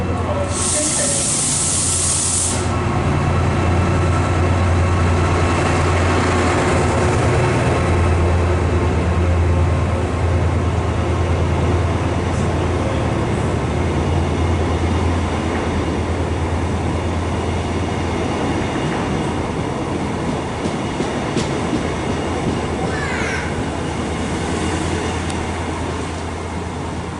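A passenger train passes through Stockport station on the West Coast Main Line, a sustained loud rumble and hiss with a brief burst of hissing near the start, and a voice speaking over it.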